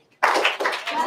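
Group of children clapping together on command during a Simon Says game, a short burst of claps starting abruptly, fairly close and loud, with voices mixed in.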